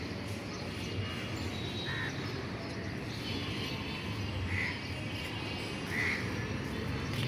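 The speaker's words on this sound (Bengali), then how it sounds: "কোথাও মনে হয় খাবার টাবার পাইছে কাকেরা, এই যে শোরগোল করতেছে।" A group of crows cawing noisily from a rooftop setting, with several distinct harsh calls spaced a couple of seconds apart. The calls sound moderately distant against a steady outdoor background hum.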